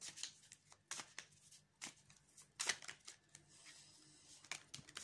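Tarot cards shuffled by hand in bursts of soft riffling and brisk slaps, close and fairly quiet, with pauses between the shuffles.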